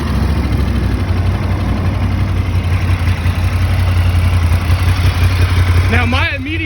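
A 2019 Ducati Monster 1200 R sits at a steady, loud idle, its engine a constant low throb throughout, with someone talking briefly near the end.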